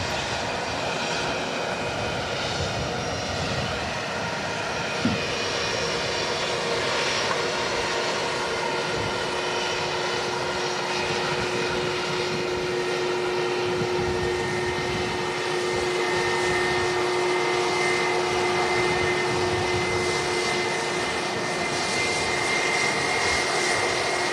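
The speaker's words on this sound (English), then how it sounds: "And this to land is a 737 MAX 8 from Palma de Mallorca." Boeing 737 MAX 8 jet landing at windy Manchester Airport, a steady, loud continuous engine roar with a sustained whine, heard from nearby for over twenty seconds, with wind noise underneath.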